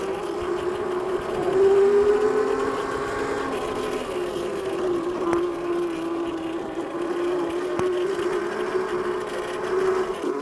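A Yozma IN 10 electric dirt bike climbs a hill with a steady, sustained motor whine that rises and dips slightly under load, close and continuous with faint wind and terrain noise beneath.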